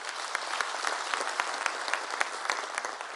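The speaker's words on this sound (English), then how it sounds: "I think the administration of Comrade Cyril Ramaphosa deserves a nice round of applause for them" Audience applause at an ANC provincial conference, a dense, steady wash of many hands clapping throughout, moderately loud with no talk over it.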